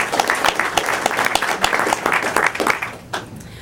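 A room full of people at a school district board meeting applauds with steady, dense clapping that fades out toward the end.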